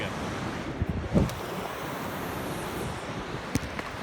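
Ocean surf rolling onto San Buena Ventura Beach, a low steady wash of waves with wind buffeting the microphone and a couple of brief thumps, fairly faint and continuous with no talking.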